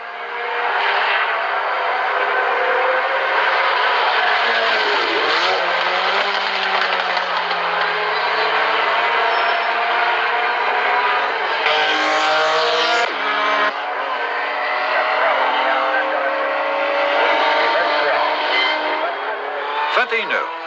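Race cars at the 1975 24 Hours of Le Mans, including the leading Gulf cars, roar past in a steady, loud stream of engine noise with passing swells and brief tire squeal, all sustained throughout.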